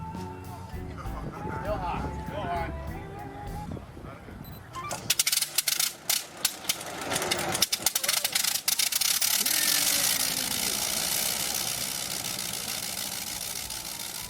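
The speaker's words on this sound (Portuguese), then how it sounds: "existiu o radial giratório, desenvolvido antes da Primeira Guerra Mundial" A rotary radial aircraft engine from before the First World War, its crankshaft fixed while the whole engine spins with the propeller, starts up after a few seconds of other sounds, then runs as a steady, clattering broadband roar.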